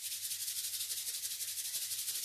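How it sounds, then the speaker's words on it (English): Two hands rubbed rapidly together, a steady close, soft swishing friction with a fast repeating pulse, heard alone without talk. "If you rub your hands together really, really, really, really quickly, make them really warm"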